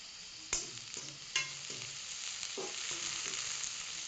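Curry leaves frying in hot oil in a pan while being stirred, for a carrot egg poriyal: a steady close sizzle with a few sharp scraping knocks of the spoon, no talk.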